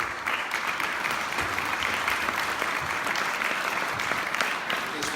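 The congregation at a harvest festival church service applauds, a moderate and steady clapping that is fairly distant and continuous, with some murmur mixed in.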